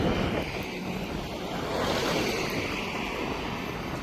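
Strong wind blows along the Mekong riverside in Vientiane, a loud, continuous rushing roar buffeting the microphone with no voices.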